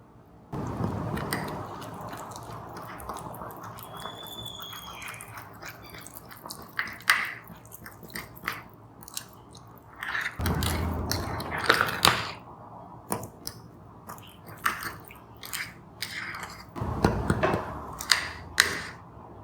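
Cake batter is stirred with milk in a mug for a microwave Nutella mug cake, giving wet, squishy scraping sounds in irregular bursts with quiet gaps between them.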